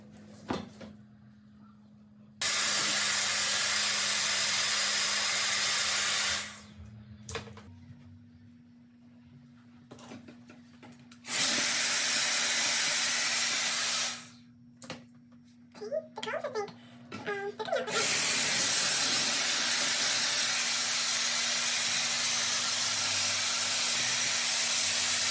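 A Bondiboost Everlasting air styler blows hot air in a steady loud whoosh, switching on and off in several long bursts with quieter gaps between, and a low constant motor tone runs underneath throughout.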